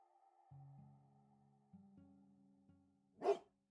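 A single sharp dog bark in a haunted-house video game rings out near the end, loud and close, after a stretch of soft sustained game music tones.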